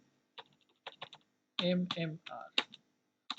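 Short bursts of key presses on a computer keyboard while a password is entered, close and moderately quiet, coming in quick clusters with brief pauses between them.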